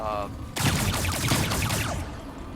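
Turret guns on a star fortress build in Trailmakers let off a rapid, dense burst of fire that lasts about a second and a half, then cuts off abruptly.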